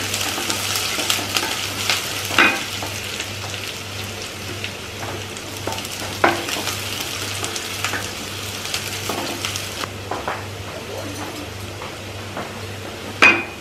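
Onions, curry leaves and whole red chillies fry in a pan with a steady, close sizzle, broken by a few sharp clinks and scrapes of stirring.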